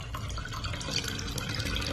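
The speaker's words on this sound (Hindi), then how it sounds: "अब हम इसमें भरेंगे पानी।" Water pours steadily into a clay pot being filled for a Hindu puja, a continuous close splashing and trickling with no pauses.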